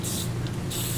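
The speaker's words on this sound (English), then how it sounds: "a little bit of my silicone spray down in here" Silicone spray hissing onto lathe chuck parts during reassembly, two short close bursts in quick succession.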